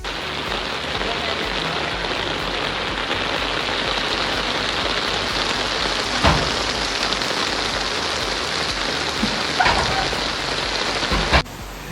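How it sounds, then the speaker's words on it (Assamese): Steady, fairly loud rain pours down outdoors while boxes are unloaded from a truck, an unbroken wash of drops with a few dull thumps and knocks before it cuts off at the end. "বৰষুণটো দিলে অলপ ভিজিলে"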